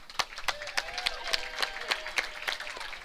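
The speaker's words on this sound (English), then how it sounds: "Round of applause for your two finalists." Audience at a submission grappling tournament applauding the two finalist teams, a brief burst of clapping with sharp repeated claps over crowd murmur and cheering voices.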